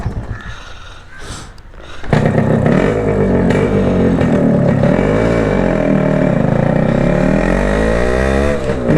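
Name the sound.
Yamaha RX Concorde motorcycle engine revving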